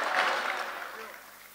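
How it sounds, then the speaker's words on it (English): A political party congress crowd claps briefly, a dense burst that quickly fades within a second or so. "So clap for your National Assembly members."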